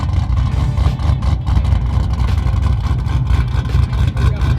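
Nitrous-fed 650 horsepower small block Ford hot rod Trailblazer revving loudly and continuously, a deep rumbling engine roar that stays steady and close throughout with no voices.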